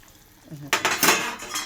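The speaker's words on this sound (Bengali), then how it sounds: "ঝোলটা ফুটে উঠলো, পনিরগুলো ঢেলে দিলাম।" A few clattering knocks of paneer pieces dropping into a pan of simmering gravy, followed by a scrape and clink of a utensil against metal, close by.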